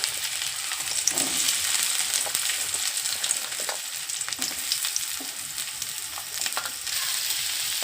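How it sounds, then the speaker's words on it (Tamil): Onions frying in hot oil in a pan for an okra curry give a steady, close crackling sizzle with occasional stirring scrapes, and no one speaks. "அந்த எண்ணெயில் இதில் வெங்காயம் போட்டு சேர்க்க போகிறோங்க"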